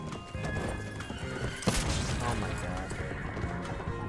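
A horse in a first-person shooter game neighs and whinnies amid clip-clopping hooves and a sharp crash, set in a busy, dense game mix with a voice talking over it.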